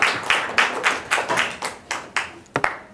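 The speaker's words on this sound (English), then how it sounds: "a round of applause for Prof. as he" Sparse applause from a small audience at a social business panel as a professor comes forward. About a dozen separate, fairly close claps arrive in an uneven rhythm, sounding more like a few people than a full crowd.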